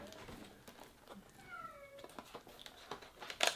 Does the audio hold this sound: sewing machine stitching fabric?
no